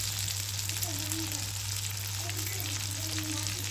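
Masala spices sizzle steadily in hot oil in a pan, a dense, even frying hiss with faint scraping stirs, close and continuous throughout.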